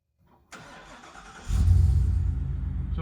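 A vehicle engine cranks briefly, catches and starts, then settles into a loud, steady low rumble right up close.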